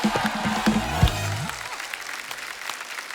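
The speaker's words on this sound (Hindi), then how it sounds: "जोरदार तालियां हो जाए हमारे मेहमानों के लिए" A studio audience on a Hindi talk show applauds for the guests, a bright crowd burst that fades out over a few seconds while music ends and a voice speaks briefly.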